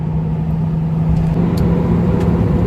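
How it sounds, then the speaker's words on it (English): Low, steady engine rumble from inside a moving 2003 Toyota Hilux 4x4 pickup with a swapped Lexus 3UZ-FE 4.3 V8, with a constant drone and road noise, no voices. "So this truck drives really, really nicely."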